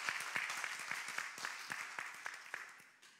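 A church congregation claps their hands in praise, a roomful of overlapping applause with a loose rhythmic pulse that gradually fades over a few seconds.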